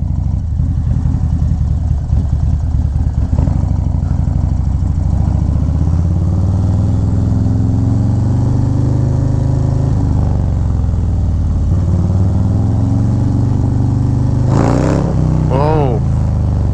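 Harley-Davidson Low Rider ST with a 131 engine accelerates hard, a loud continuous close-up roar rising in pitch through the run, heavy wind rush, and a voice briefly heard near the end.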